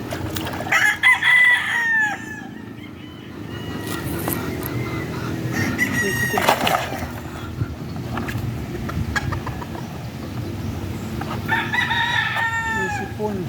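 Roosters crow in several bursts at a poultry breeding farm, their calls spread across the yard over a constant background bustle of clucking chickens and farm noise.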